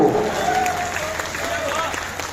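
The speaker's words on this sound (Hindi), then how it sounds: "एक बार मेरे सम्मान में हाथ ऊपर करके ढंग से ताली बजाओ।" An audience claps at a poetry gathering (kavi sammelan) on a fair stage, a short, even burst of applause with a faint voice or tone in the background.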